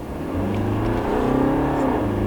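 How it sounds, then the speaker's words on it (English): BMW 320d diesel accelerating hard in sport mode, a close, steady engine drone rising in pitch through the gear as the car pulls, heard from inside with no talking. "We're gonna put into the sport mode quickly and just throw it on the throttle."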